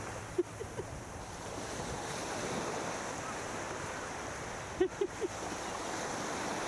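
Ocean surf on the beach at Coogee Beach, Western Australia, a continuous broad wash of waves with wind buffeting the microphone, and a few faint brief knocks.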